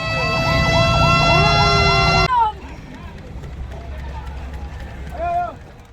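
Ambulance siren at a cultural parade, a loud wailing tone with strong harmonics sweeping up and down for about two seconds, then cutting off; crowd noise and fainter siren yelps follow, with another brief siren whoop near the end.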